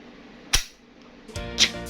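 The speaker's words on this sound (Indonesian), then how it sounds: "bunyinya ketika kalian merilis bagian bolt catch ini, bunyinya enak sekali" Metal bolt catch released on an airsoft F4 CQB Beidou rifle, giving a sharp metallic snap followed by a second clattering mechanical clack with ringing metal, close and loud.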